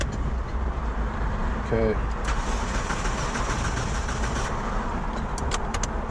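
An old Mitsubishi Lancer with an automatic transmission is cranked with a newly made key and fails to start. A short starter whir rises amid steady engine-bay noise and a few clicks, and a person speaks briefly.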